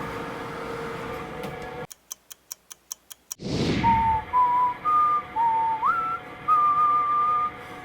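A person whistles a bright, wavering tune in short phrases over a steady background hum in a kitchen, after a run of sharp regular ticks and a rushing burst.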